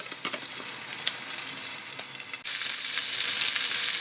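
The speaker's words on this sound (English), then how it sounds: "These are thick, so cover with a lid and cook slowly." Thick yellowtail fish fillets cooking slowly in a lidded pan, a close, steady hiss of sizzling oil that swells louder partway through.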